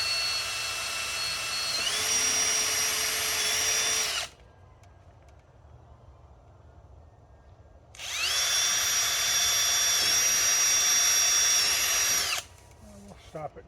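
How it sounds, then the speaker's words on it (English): A power drill boring holes to rebuild a garden trellis for sword beans, running in two loud sustained bursts of about four seconds each with a quiet pause between, close to the microphone. "I'm just going to drill another hole down here, here, and here."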